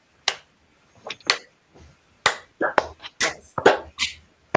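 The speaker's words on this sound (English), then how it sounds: "We will do this like clapping." A group doing warm-up clapping at a workplace happiness talk, with scattered sharp claps in uneven bursts that build toward a rhythm, close and crisp, and a brief spoken word among them.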